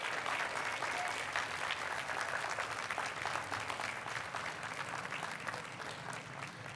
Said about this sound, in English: please stand and give a big round of applause to your parents, your grandparents, your partners, your family, your children and friends